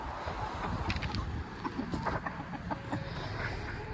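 Chickens in a chicken tractor on a grassy farm cluck softly and intermittently, close by, over a rustling outdoor background.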